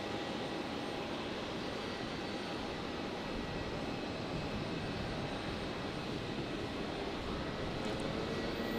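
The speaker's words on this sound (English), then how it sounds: "Royal Flying Doctor Service just being cleared for departure." A Royal Flying Doctor Service Beechcraft King Air 350 turboprop departs from Brisbane Airport, producing a continuous, moderately loud engine roar that holds steady and fairly distant throughout.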